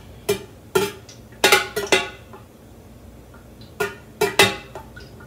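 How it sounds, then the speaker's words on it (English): A utensil stirs dye into melted soy candle wax in a container, making several short, sharp clinks and scrapes in quick clusters, close and fairly clear, with quiet gaps between them and no talking. "I'm just going to drop it in and see what we get. And I am going to stir."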